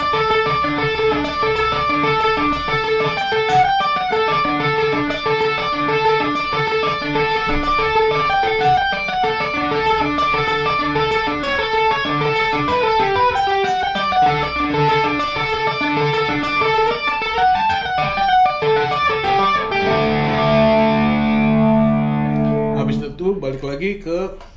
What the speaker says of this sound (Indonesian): Kalau pakai distorsi kayaknya kira-kira gini. Ini gue pakai tube screamer ya.